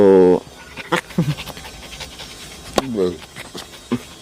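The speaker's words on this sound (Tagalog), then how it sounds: "May asong reklamo ng reklamo." Dog panting in short rapid bursts with brief whining whimpers, close by, interspersed with faint background speech.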